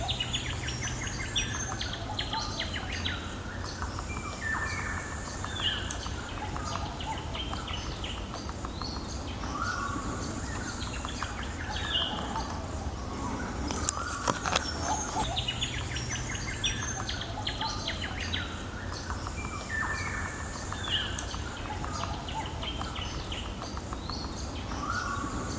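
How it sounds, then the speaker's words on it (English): Sulphur-crested cockatoos feeding in a tree in woodland, a steady outdoor wash of bird calls, chirps and occasional squawks at moderate distance, continuous and fairly faint throughout. "Now I just got some great video of some sulphur-crested cockatoos"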